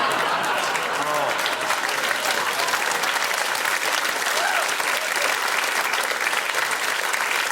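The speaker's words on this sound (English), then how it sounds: "stop clapping. People at home are going to know that wasn't worth that much applause." A studio audience at a comedy show applauds steadily and loudly throughout, a dense wash of clapping with some crowd noise beneath.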